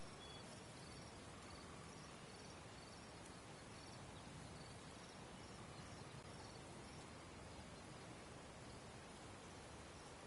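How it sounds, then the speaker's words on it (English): Faint crickets chirp steadily in the King's Quest (2015) video game, a soft continuous insect chorus set against a constant hiss of background noise, with no talking. "There was a horn, now there is just very low crickets."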